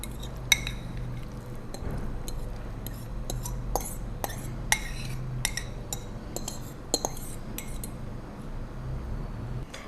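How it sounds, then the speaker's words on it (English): Diced tomatoes and canned Besta tuna being mixed together in a bowl for a salad, with repeated light clinks and scrapes of a utensil against the dish, fairly close and quiet, with a faint background hum. "You mix your ingredients together."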